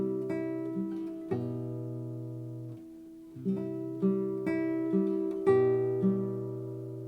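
Solo classical guitar plays measure 5 of Leo Brouwer's Un Dia de Noviembre, clear plucked chords and bass notes ringing close and unaccompanied, struck in a slow repeating pattern with a brief pause midway.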